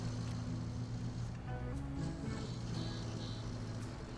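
A small engine drones steadily in a video game, a continuous low hum mixed with a watery, wave-like wash. It stays loud and unbroken throughout, with no talking.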